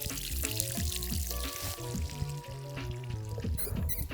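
Water pours and splashes onto orchard ground in a high desert, a close, continuous rushing and gurgling with uneven bursts of spattering.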